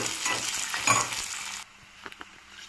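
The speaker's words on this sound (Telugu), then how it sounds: "ఇవి కొంచెం బాగా వేగాలి. ఆనియన్స్ కొంచెం మెత్తబడాలండి." Onions and curry leaves fry in a pan, with a dense, close sizzle and crackle that then drops sharply to a quieter simmer with a few small taps, and no talking.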